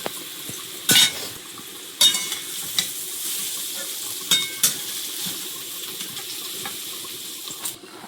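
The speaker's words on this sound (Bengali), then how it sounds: "এপাশে সবজিগুলো ভেজে নিচ্ছি, গাজরটা ভাজা হয়ে গেছে," Vegetables, including carrots, fry in a pan with a constant sizzle close by. A spatula scrapes and clanks sharply against the pan several times as the food is stirred.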